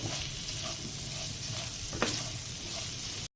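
Fennel seeds, turmeric and salt being stirred by hand into a mango pickle mixture, a steady soft scraping and mixing with one sharper clink near the middle, close and continuous with no voices.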